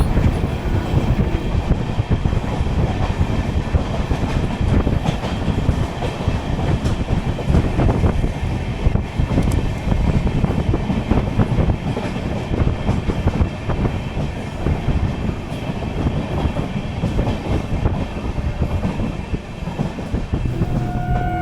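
The new Kolkata–Sairang Express runs along the line between Krishnanagar City Junction and Azimganj, making a loud steady rumble with wheel clatter and rail noise that continues throughout.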